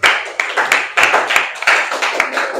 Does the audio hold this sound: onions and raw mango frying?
no